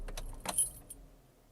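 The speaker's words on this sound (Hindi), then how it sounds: "अब गाड़ी बंद कर देता हूँ" A key turns to switch off a Changan Alsvin 1.3 MT car. Close, quiet key jingles and a couple of small clicks sound over about a second, then settle into a faint, fading hum.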